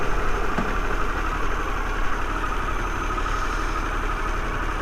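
A 2021 Harley-Davidson Pan America Special motorcycle sits idling at a traffic light, its engine a steady low rumble that continues evenly throughout with no voices.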